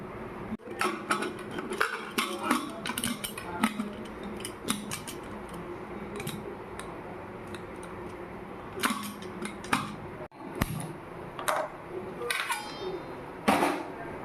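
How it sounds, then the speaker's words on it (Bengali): Potatoes are cut into small pieces with repeated crisp snips and knocks, close and fairly steady, with faint kitchen sounds behind and no talking. "আর এখানে আলু কেটে নিচ্ছি। ছোটো করে একটু আলু কাটতে হবে।"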